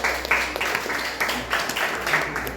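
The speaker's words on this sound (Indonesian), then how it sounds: "tepuk tangan untuk kelompok 3" Classmates applaud a group after its presentation in a teacher training class, a fairly loud, steady round of clapping from a small audience with rhythmic swells.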